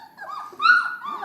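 Basset hound puppies, tired and grizzly, whimper and whine in a close, continuous run of high-pitched cries, rising to a louder wavering yelp midway before settling back into softer whines.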